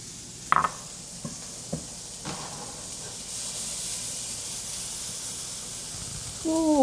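Chopped onions sizzle in olive oil in a skillet with a steady, broad hiss, broken by a few sharp clicks and taps early on. No one speaks.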